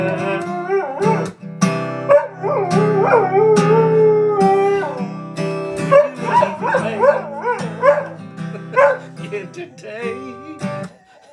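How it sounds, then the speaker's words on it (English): A dog howls and yips in long, wavering calls, close and loud, sustained through most of the clip. "Why are you barking?"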